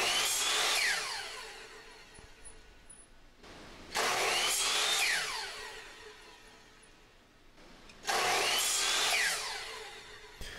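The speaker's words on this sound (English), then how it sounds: "So this saw has a brake in it that slows down the blade when you release the trigger on it." A power saw with a blade brake cuts wood pieces in three loud bursts, each winding up then slowing as the trigger is released, heard close with no talking.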